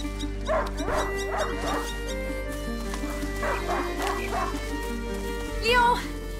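A hunting dog in A Plague Tale: Innocence gives a few short yips and whimpering barks, spaced across the moment, mixed with game music and a voice talking over it.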